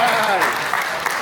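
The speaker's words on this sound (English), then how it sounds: "Clap for that." Audience applause at a chef competition event at a beach resort, a dense burst of clapping heard close, with voices mixed in.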